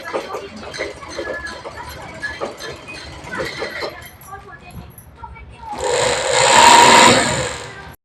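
Sewing machine stitching a shirt, a steady loud whirring run that swells near the end after a stretch of quieter, softer mechanical sounds.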